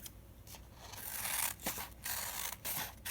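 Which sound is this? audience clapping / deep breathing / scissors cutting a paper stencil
scissors cutting a paper stencil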